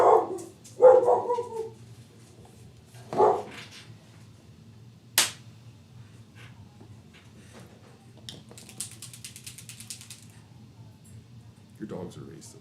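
Dogs barking in a few sharp, separate outbursts spread over several seconds, loud and close at first and then sparser, with quiet stretches between.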